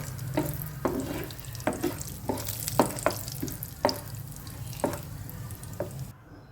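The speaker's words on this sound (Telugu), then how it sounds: "బాదం పప్పు కూడా కట్ చేసుకొని కొంచెం పచ్చివాసన లేకుండా ఫ్రై చేసుకోవాలి" Chopped almonds frying in a pan of ghee for carrot halwa, with steady sizzling broken by repeated stirring scrapes about once a second, close and moderately loud, no voices.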